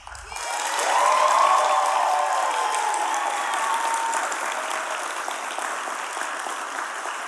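An awards ceremony crowd gives a steady round of applause that swells in the first second and holds through the clip, moderately loud, with a few faint cheers and voices mixed in.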